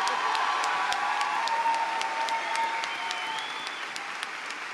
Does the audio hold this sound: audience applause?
yes